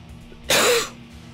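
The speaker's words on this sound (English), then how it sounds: "I'm trying not to cough so much" A single short, harsh cough bursts out close to the mic, lasting about a third of a second amid quiet room tone.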